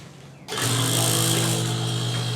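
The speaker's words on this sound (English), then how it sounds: "Like the vacuum pump running now." A brake booster vacuum pump runs steadily after switching on abruptly, a loud, constant mechanical whine with a low hum beneath, close and alone.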